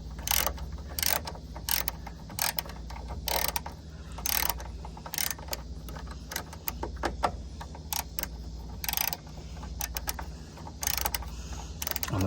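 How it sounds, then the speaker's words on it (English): Hand ratchet loosening the fuel filter on an RV QD 8000 generator, giving repeated bursts of close, crisp clicking strokes with short pauses between them. "I'm a fan of ratchets for this kind of work for sure."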